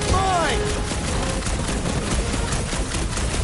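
Dense gunfire and blasts in Marvel's Guardians of the Galaxy video game on hard difficulty rumble continuously, a steady wash of shots and explosions with a brief tonal game sound at the start and no clear voices.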